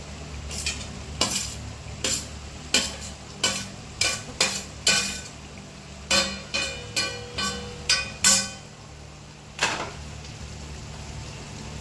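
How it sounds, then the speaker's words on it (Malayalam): A spoon stirring fried prawns into a thick prawn pickle in a pan, with a regular series of sharp scraping clacks, about a dozen close strokes over a faint sizzle, and no voices. "നമ്മൾ വറുത്ത് കോരി വെച്ച ചെമ്മീൻ തട്ടി കൊടുക്കുകയാണ്"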